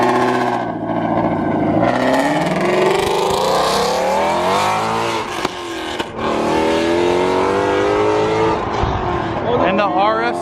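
A Ford Mustang GT350 accelerates away from a Cars and Coffee meet in Cypress, its engine revving loudly and rising in pitch as it pulls off close by. Crowd chatter and voices run underneath.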